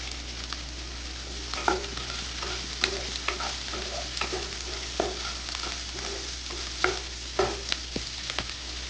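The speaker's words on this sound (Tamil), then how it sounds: "லைட்டாக உப்பு போட்டு கிண்டி விடுங்க." A chilli fish mixture with salt is stirred in a pan: a low, steady sizzle runs under repeated light scrapes and clinks of the spatula, with a faint constant hum in the background.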